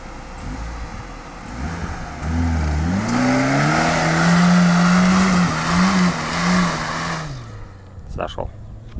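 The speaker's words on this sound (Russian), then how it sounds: "Нива с маломощным двигателем смогла заехать" A Lada Niva 4x4's low-powered engine rises in pitch as it pulls away, revving steadily under scattered voices, then fades out quickly at the end.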